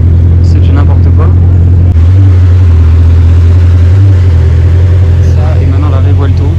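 A supercar accelerates hard on a Monaco street among exotic cars, its loud, close engine roar swelling and shifting pitch beneath excited talk and a busy crowd.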